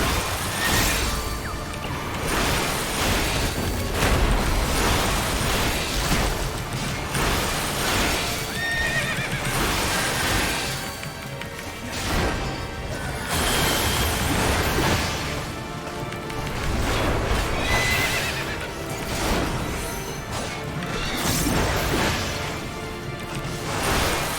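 Horse neighs and whinnies with clip-clopping hooves in the fantasy game Final Fantasy XIV, layered over game music and occasional whooshes and impacts, continuous and moderately loud.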